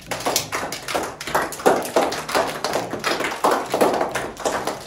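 Applause from the audience for Mrs. Larisa at a child's ninth birthday party: steady, dense clapping from a small crowd, close and continuous for about five seconds, with no voices over it.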